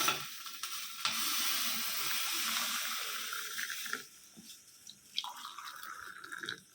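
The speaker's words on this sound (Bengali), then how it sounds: "চলুন জলটা ঢেলে নিই।" Hot water just off the boil being poured, a steady splashing stream for about four seconds, then quieter drips and light clinks, close by with no talk.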